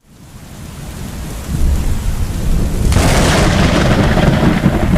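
Deep thunder rolls and rumbles, building in strength, with steady heavy rain hissing throughout and the storm growing louder partway through.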